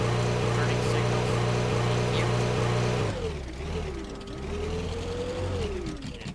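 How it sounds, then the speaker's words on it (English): Diesel engine of a 3/4-ton pickup truck in a driving video game, a steady loud drone with a rhythmic mechanical pattern that drops off around three seconds into a lower, shifting engine tone, under faint background noise. "this has the diesel engine, which is nice and realistic"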